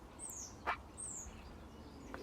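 A bird gives a few brief, high chirping calls outdoors, one sharper note standing out in the middle, over a steady soft background hiss with no voices.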